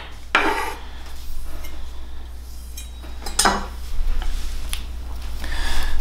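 A chef's knife slices through an onion on a cutting board in a Michelin-style kitchen demonstration, giving a few crisp knocks and scraping clinks spaced apart against a quiet background.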